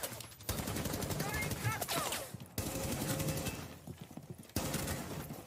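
Compact SMG 11 submachine gun fire in Rainbow Six Siege, heard as rapid bursts broken by short pauses, mixed with game noise and someone talking.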